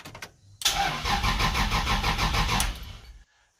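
A BMW fitted with a Toyota 1JZ engine cranking on the starter after the key is turned: a sudden loud, rapid rhythmic churning for about two and a half seconds that then cuts off abruptly, with no talk.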